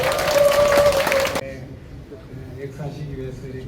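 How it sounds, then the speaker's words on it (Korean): At a church memorial hall opening service, an audience gives a burst of applause to welcome a church elder, dense clapping under a speaker's voice that cuts off abruptly, leaving quieter talk. "박수로 모시겠습니다."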